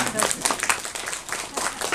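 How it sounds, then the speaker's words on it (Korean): Clapping from a Thanksgiving church gathering, a dense run of hand claps close by with voices mixed in, continuous for the whole stretch. "박수 박수 박수"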